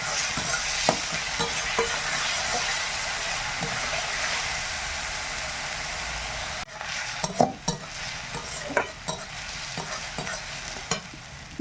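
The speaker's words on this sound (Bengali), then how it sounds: "পেঁয়াজটা ভাজা হয়ে গেছে" Onions fry in a pan with a steady, close hiss of sizzling oil, then a spoon starts stirring and scraping in short, irregular strokes while the frying continues. No one speaks.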